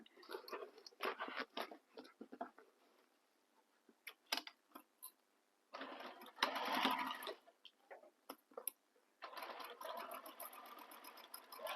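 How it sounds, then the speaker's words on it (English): Sewing machine stitching across the top edge of a handmade Birkin-style tote bag, running in several bursts of steady close mechanical chatter separated by short pauses. "we're going to sew this across the top edge here using the seam allowance given in the pattern"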